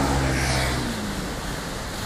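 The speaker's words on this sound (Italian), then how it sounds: "l'Adige è in piena" The Adige river in flood at Verona, a steady broadband roar of rushing high water that holds constant and loud throughout, with a faint low rumble underneath.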